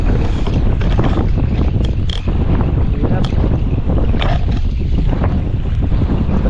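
Very strong wind batters a GoPro-style camera outdoors, a loud, constant roaring buffet that fills the whole clip without letup, with no voices.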